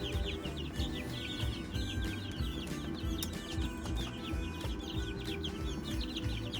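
Young chickens on a farm, still growing their wings, clucking and chirping continuously in a busy, overlapping flock chatter, close and steady with no talking.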